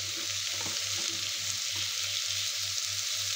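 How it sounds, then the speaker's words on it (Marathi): Roasted rice for a veg biryani is tipped into a pan and stirred, giving a continuous close sizzle with scraping, stirring texture and a steady low hum underneath. "सगळा तांदूळ आपल्याला याच्यामध्ये टाकून घ्यायचा। अशा प्रकारे आपण सगळा तांदूळ टाकून घेतलेला आहे, तो असा एकत्र करून घ्यायचा आहे।"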